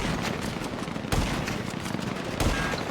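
Light machine gun fire in a video game rattles in dense, continuous automatic bursts with a few heavier cracks, loud and close throughout.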